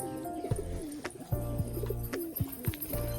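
Pigeons coo in low, repeated throaty phrases, several rolling calls in a steady rhythm, close by, with faint background noise and no talking.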